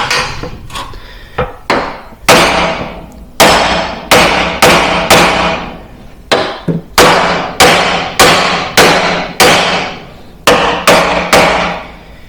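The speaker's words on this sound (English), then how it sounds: "so much for the kingpin just popping out if you hit it in the side with a hammer" Loud, close metallic hammer blows strike the steering kingpin of a Jeep WJ one after another in an uneven rhythm, about twenty strikes, each with a short ringing decay.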